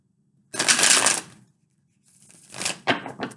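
Tarot cards being shuffled by hand, two bursts of crisp riffling and flapping close up separated by a short pause, with no talking.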